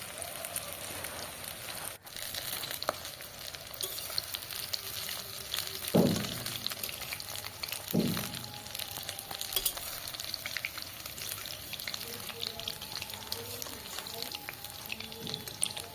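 Fish-oil fritters frying in hot oil give a quiet, steady bubbling sizzle, with a couple of brief louder clatters from the spoon as they are turned.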